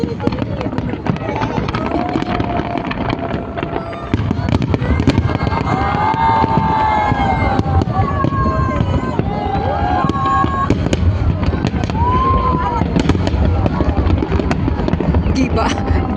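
Fireworks bursting through a Chinese New Year night, a dense, continuous barrage of cracks and booms with whistling rockets rising over it, loud and steady throughout, with crowd noise and voices mixed underneath.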